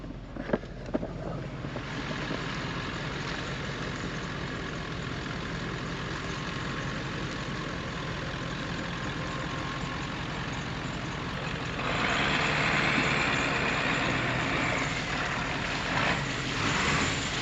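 A Ford 7.3 Powerstroke diesel truck engine pulling out of mud, a steady loud rumbling drone that swells louder near the end, with no talk.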